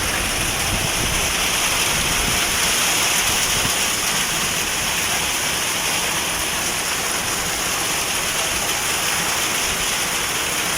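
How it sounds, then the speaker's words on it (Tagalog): Heavy rain pours down onto a tarp over a chicken coop in a loud, constant hiss and roar, unbroken for the whole stretch with no voices. "pero grabe ang lakas ng ulan"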